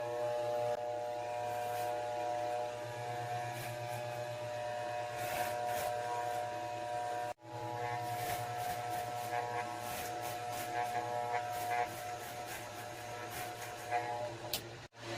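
Electric hair clippers with a number 1 guard buzz steadily while cutting hair for a home self-fade, a loud continuous drone with a brief cutoff partway through before it resumes.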